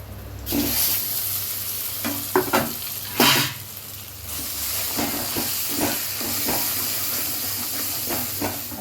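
Jackfruit seeds hitting hot oil in a pan with black cumin, salt and turmeric: a loud burst of sizzle, then steady frying hiss with repeated spatula stirs and scrapes in an irregular rhythm.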